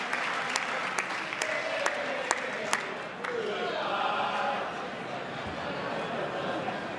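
Members of Congress applaud and cheer during a presidential address, a dense steady wash of clapping with sharp claps standing out early and crowd voices mixed through the room.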